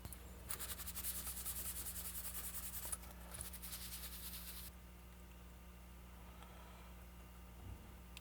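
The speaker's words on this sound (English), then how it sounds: "I can just scrape it off and it's like clay almost." Dried, clay-like thermal paste is scraped off a laptop fan in a quick series of close, faint rubbing scrapes that stop partway through, leaving quiet hum.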